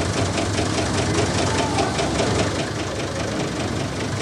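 Zuse Z3 relay computer chugging steadily like a tractor, a dense continuous mechanical clatter with a rapid regular pulse, loud and alone.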